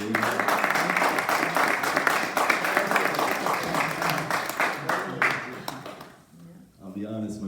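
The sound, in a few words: applause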